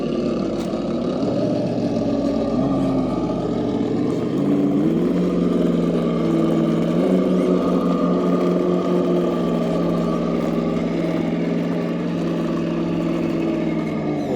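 Traxxas TRX4 Bronco RC crawler fitted with front brass weights, bead-lock wheels and aftermarket tyres, its electric motor whining steadily and shifting pitch as it drives and climbs, close and continuous throughout with no talk.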